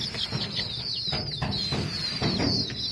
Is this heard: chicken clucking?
yes